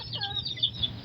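Chickens and roosters cluck softly in short, close-by calls around a farmyard at feeding time.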